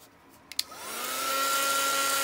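Hair dryer drying a mask on an art journal page, switched on after a couple of clicks and spinning up into a steady loud whirring blow.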